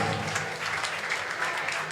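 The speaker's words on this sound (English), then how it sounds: "Give them a round of applause." Applause for a student team at a startup idea-lab session, a short, dense burst of clapping from a room of students, fairly loud and continuous.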